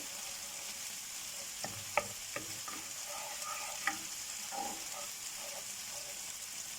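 Roughly half a cup of milk and two tablespoons of cream cooking in a pan, giving a soft, steady sizzle with a few sharp utensil clicks and scraping stirs over it.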